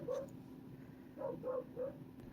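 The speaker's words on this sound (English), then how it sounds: "sorry about the dog barking" A dog barks indoors in a room where a water-damaged Game Boy Advance SP is being repaired: one bark, a pause, then three quick barks in a row, fairly faint and with no talk.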